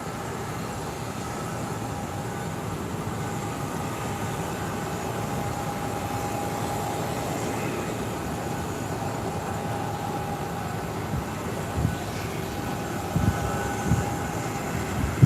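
Small aircraft taxiing along a taxiway after landing, heard as a steady low engine rumble with broadband noise, fairly distant and continuous, with a few louder bumps near the end.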